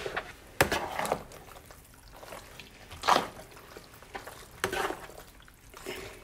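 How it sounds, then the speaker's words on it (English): Pasta in Italian meat sauce is stirred in a pot, giving soft wet squelches and several scraping strokes at an uneven pace. The sound is close and fairly quiet, with no talk over it. "I'm going to give this a good stir."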